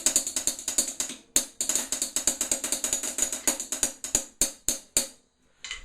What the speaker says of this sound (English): striking your sticks along the inner circle of the hi-hat